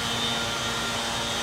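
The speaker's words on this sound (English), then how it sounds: "That's a leaf blower, not the generator." A leaf blower drones steadily nearby, a constant loud airy roar with a thin whine that holds without change and has no talking over it.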